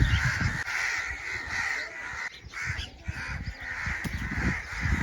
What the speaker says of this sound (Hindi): हमारी लैंग्वेज में हाडा बोलते हैं कौवा, देखो इसलिए आवाज़ कर रहे हैं सारे